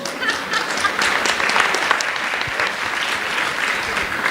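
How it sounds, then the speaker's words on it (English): A meeting audience breaks into applause, a loud, dense, sustained wash of many hands clapping steadily from start to finish, with little talk. "Everybody, let's clap."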